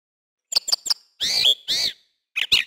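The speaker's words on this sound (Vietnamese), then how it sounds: "Đây là chim cốc, trong tiếng Anh được đọc là cormorant." Cormorant calls: a few quick clicking notes followed by two longer harsh, raspy cries and a final short pair, close and clear with silence between.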